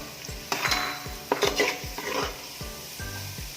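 Sliced onions stirred in sizzling butter in a pan, with a soft steady fry under repeated scraping strokes of a spoon against the pan, several distinct stirs with clinks of metal, close and moderately loud.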